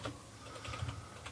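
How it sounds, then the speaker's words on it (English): Typing on a computer keyboard during a late-night chat, with soft, close key clicks pattering in an uneven run over a steady room hiss. "You see what I type? Yeah, you type like an old person."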